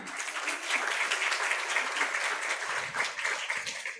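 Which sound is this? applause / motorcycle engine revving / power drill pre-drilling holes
applause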